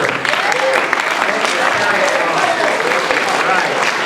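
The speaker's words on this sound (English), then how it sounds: "I want to give a big round of applause for Barry Carter" Sustained crowd applause at a conference, steady and fairly loud throughout, with faint voices underneath.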